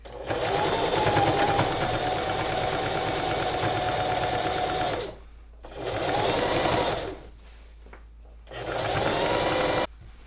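Sewing machine back-stitching black thread across a kimono, a loud close mechanical whirr running in three runs, a long five-second burst then two shorter ones, separated by brief pauses.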